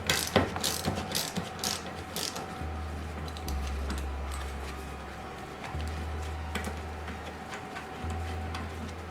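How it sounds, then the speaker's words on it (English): A hand ratchet turning a 12mm socket on rear bumper bolts of a 2014+ Lexus GX 460 gives a close series of quick ticking pawl clicks in several bursts over a low steady hum. "So we're using a 12mm socket to remove those bolts."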